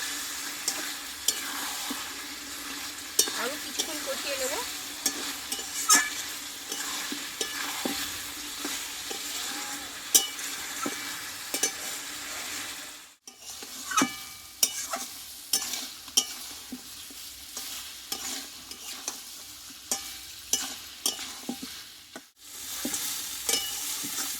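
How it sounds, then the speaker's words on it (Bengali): Mutton being slowly sautéed (kosha) in a pan for a Bengali mutton curry: a steady soft sizzle with frequent scraping and clinking stirring strokes, heard close and alone with no talk and two brief pauses. "মাটনটা কষানো হয়ে গেছে আমি আরও কিছুক্ষণ কষিয়ে নেব"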